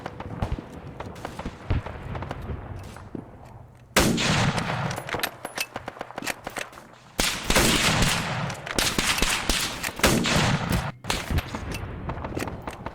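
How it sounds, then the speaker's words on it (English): Arma 3 gunfire crackles in dense, sustained volleys, with a shotgunner shooting from up high, quieter shots at first and then two heavy bursts that last several seconds, with no talking. "There's the shotgunner up there shooting at people."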